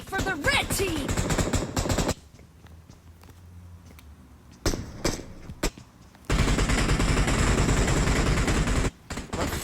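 Bursts of rapid PUBG gunfire crackle loudly, broken by a quieter gap with scattered single shots before a long sustained volley resumes.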